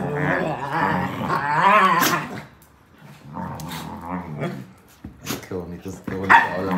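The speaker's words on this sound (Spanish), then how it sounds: "Esta es una casa de perritos." Dogs bark and growl inside a dog house full of blankets and little beds, with someone talking over much of the barking at close range.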